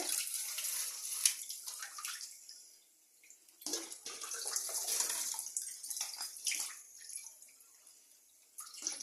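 Water splashing and sloshing as a glass bottle is washed at a sink, with uneven bursts of running, swirling water and a brief lull partway through.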